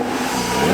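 Engine of a 2021 Audi RS6 Vorsprung (C8) revving in a steady, loud, continuous drone that swells slightly toward the end, with no talk over it.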